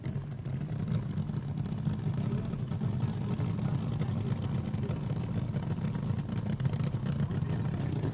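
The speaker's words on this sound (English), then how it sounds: "Listen to that Ram Charger's motor." A Ram Charger funny car drag racing engine from the 1970s idles and runs steadily, a continuous low rumbling drone at moderate distance throughout, with no talking.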